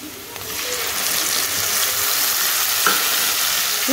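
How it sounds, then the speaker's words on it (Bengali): A spice paste of ginger-garlic paste with cumin, chilli and coriander powders sizzles steadily in a pan for fried rice, a loud continuous hiss broken by a few soft scrapes and taps of stirring. "ভালো করে আমি মশলাটাকে কষিয়ে নেব।"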